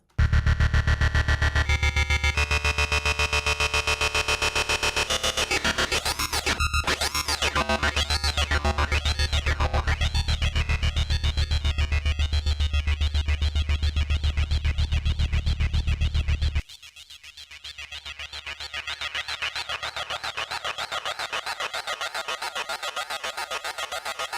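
A Bitwig Phase-4 synthesizer patch drones loudly and continuously for about twenty-four seconds, its dense, buzzy, shifting timbre warping under modulation, then drops to a quieter, thinner tone partway through.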